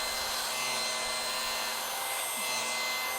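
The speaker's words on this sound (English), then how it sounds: "what I love again about these clippers is the built-in vacuum" Electric hair clippers with a built-in vacuum cut a man's hair at home, a steady close whirring motor hum with a rushing suction whoosh running continuously and evenly throughout.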